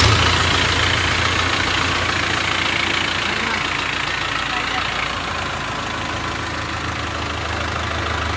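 A YTO Eco Master 554 tractor, a 55 HP four-cylinder machine, idles with a steady, dense diesel rumble that runs unbroken throughout, close and fairly loud.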